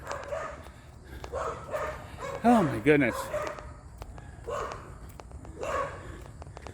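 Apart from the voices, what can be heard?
small yappy dogs barking in a backyard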